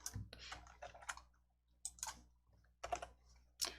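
Computer keyboard keys are pressed for an Alt+S save shortcut, producing a few close, crisp clicks in short clusters separated by quiet gaps, with no talking.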